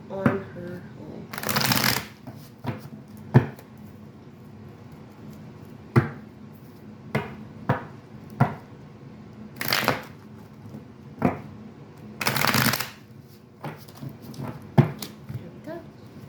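A tarot card deck being shuffled, with repeated crisp riffles and sharp card taps spread across the stretch, some bursts loud and close, heard alone without talk.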